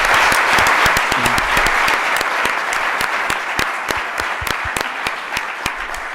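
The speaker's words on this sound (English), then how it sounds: "how about a round of applause for His Excellency Dr. Rudian" An audience claps steadily throughout at a youth event in Kigali, a dense, loud round of applause with distinct individual claps standing out near the listener.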